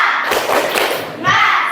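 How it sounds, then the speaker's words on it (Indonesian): A classroom of students does a rhythmic spirit clap in a short burst of thudding claps, with children's voices chanting along over it. "Tepuk semangat."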